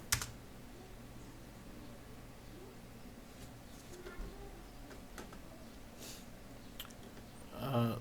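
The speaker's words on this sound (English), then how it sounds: "Then you have to type exit." Someone types on a computer keyboard into a Windows command prompt, producing faint, sparse key clicks over a quiet room with a louder flurry of taps at the end.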